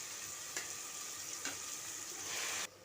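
Chopped mushrooms, washed in hot water, go into a hot pan for mushroom biryani, giving a soft, steady sizzle with a couple of sharp stirring clicks, then cutting off abruptly.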